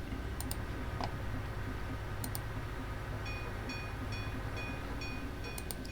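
Trains running on a rail line in a video game, a low steady rumble with rapid clicking and light repeated tones and chimes over it, no talk.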